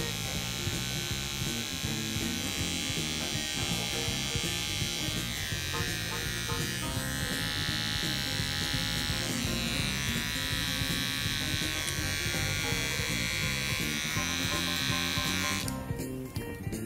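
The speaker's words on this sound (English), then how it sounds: "I'm just going to finish it off with the clippers. Just going to taper the sideburn off." Electric hair clippers taper a sideburn during a haircut, giving a steady, close, unbroken buzz that runs alone for the whole stretch.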